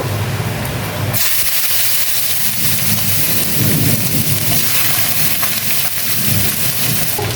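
Two large chopped onions hit hot spiced oil for a jackfruit and prawn curry, setting off a sudden loud, close hiss after a second of quieter sizzling that keeps going as a heavy, rain-like crackle.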